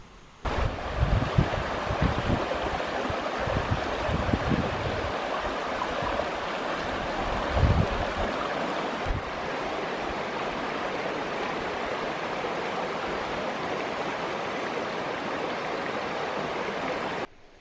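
Steady broadband rush of the Linville River flowing through Linville Gorge, a continuous close roar of moving water with some wind buffeting the microphone, no voices.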